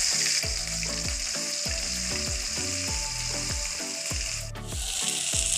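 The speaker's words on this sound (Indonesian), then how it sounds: "Bumbu yang telah dihaluskan kemudian ditumis ke dalam wajan hingga harum." Loud, continuous sizzling of ground spice paste frying in a hot wok, with repeated scraping strokes of stirring at a steady rhythm.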